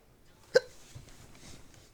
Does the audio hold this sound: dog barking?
no